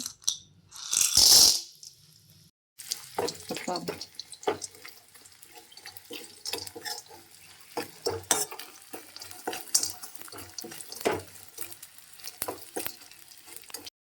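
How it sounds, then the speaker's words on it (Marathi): Steady sizzling of edible gum frying in ghee, with scraping and clinking of a stirring spoon; a louder clatter near the start. "त्यात दोन चमचे तूप टाकलेलं आहे आता आपण डिंक तळून घेऊ"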